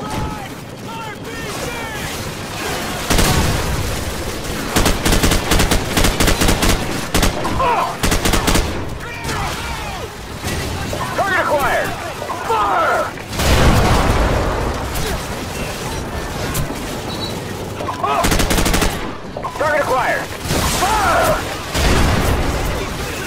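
Heavy gunfire in Call of Duty 4: Modern Warfare, with dense automatic bursts, rapid shots and booming blasts coming in waves across the clip, loud and close, mixed with shouted radio chatter and battle voices.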